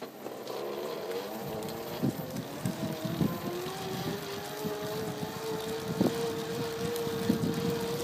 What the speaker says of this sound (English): I'm gonna use the throttle and power up this hill. Listen for the motor.